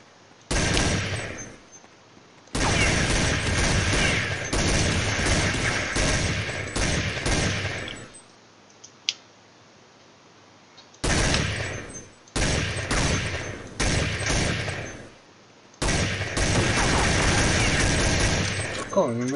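Bursts of gunfire in Counter-Strike 1.6 on the de_emir map, long loud volleys broken by short silent gaps and a sharp single crack, with talk alongside.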